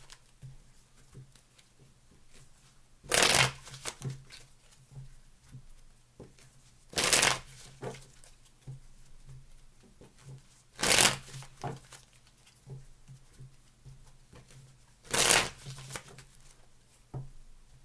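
Tarot cards are shuffled close up in four loud riffling bursts spaced a few seconds apart, with quieter card handling and soft taps in between. No one speaks.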